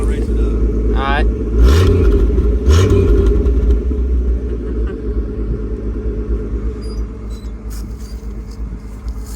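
A 1973 Ford Econoline 100 van idles with a loud, close low exhaust rumble, rising briefly in a couple of short revs before settling into a steady burble, with a voice speaking over it.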